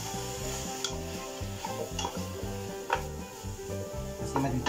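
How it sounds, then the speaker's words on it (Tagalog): Okra and string beans sautéing in a pan for ginisang munggo, with a steady low sizzle and repeated stirring scrapes and clinks of a utensil against the pan, no talk. "Dutuin natin itong ating gulay na nilagay, yung okra at sintaw, ng mga 2 minutes."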